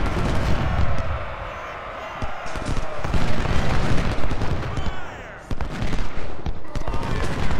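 Cannon blasts and volleys of musket fire rumble through a battle in the Civil War strategy game Ultimate General: Civil War, with dense overlapping shots, booms and crackling bursts that sound busy and continuous.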